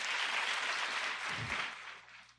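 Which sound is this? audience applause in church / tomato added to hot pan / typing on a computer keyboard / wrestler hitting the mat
audience applause in church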